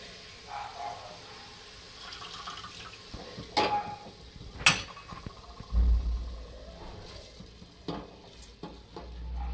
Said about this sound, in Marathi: आता हा तांदूळ सुद्धा मी टाकून घेणार आहे त्या।